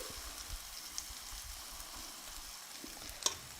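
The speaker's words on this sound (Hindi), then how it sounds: "अब हम गैस के फ्लेम को बिल्कुल लो करेंगे और इस तरह से हम अपने बैटर को डालेंगे।" Batter poured onto an oiled tawa over a low gas flame gives a soft, even sizzle, faint and continuous, with a couple of light taps near the end.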